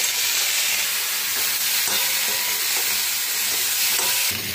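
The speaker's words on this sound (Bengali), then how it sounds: "নুন হলুদটা দিয়ে দিলাম, একটু ভালো করে সাঁতলে নেব।" Bata fish fry in a pan with salt and turmeric, giving a constant loud sizzle and hiss with soft knocks as the pieces are stirred.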